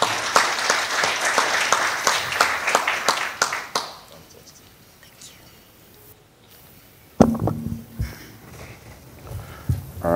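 Conference audience applauding after a talk: a dense round of clapping for about four seconds fades out, then after a quiet gap a louder burst of applause returns with a voice talking over it.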